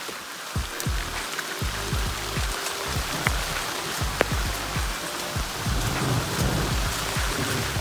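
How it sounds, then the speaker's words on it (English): Steady rain pours down on a hiking trail on Isle Royale, with distant thunder rumbling low beneath the dense hiss of drops and a sharp crack of nearer thunder partway through. "We got thunder, so yeah, lightning. It's been raining for like an hour."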